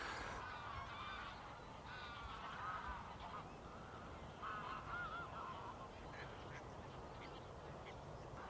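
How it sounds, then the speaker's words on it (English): A flock of geese honking at dawn in autumn, faint and distant, with overlapping calls drifting over a steady outdoor hiss. "I can hear geese,"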